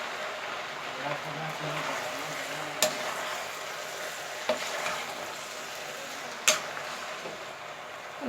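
Spaghetti noodles being stirred and mixed in a pan, a soft continuous sizzling hiss with a few sharp scrapes or clinks of the utensil against the pan.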